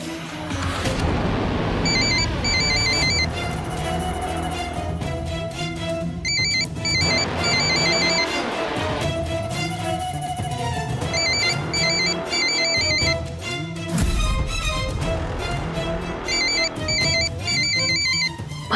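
A phone ringtone plays in repeated bursts of high, beeping chimes over loud background music and rumbling effects in a TV drama episode, recurring about every four seconds.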